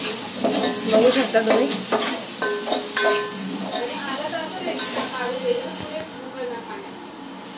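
Onion, tomato and spices being stirred in a pot, with a steady sizzle and scraping strokes under a voice talking in Marathi.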